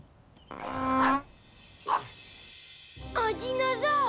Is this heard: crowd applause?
no